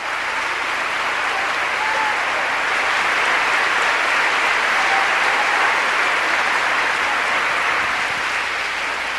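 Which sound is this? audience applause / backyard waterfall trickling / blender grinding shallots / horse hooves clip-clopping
audience applause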